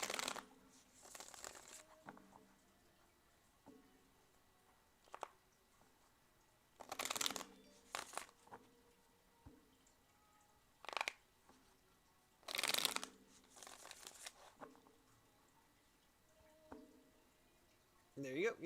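Tarot cards are shuffled in short riffling bursts with pauses between them, fairly faint and close, and a voice speaks now and then.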